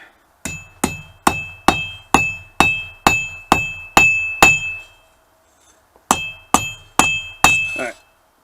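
A hammer strikes hot steel while forging a draw knife, in steady, ringing blows, about a dozen clangs, then a brief pause before four more sharp strikes up close.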